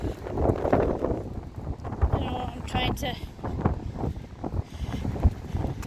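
Gusty wind buffets the microphone in a steady low rumble while a person talks over it outdoors on a walk between Alness and Invergordon, Scotland.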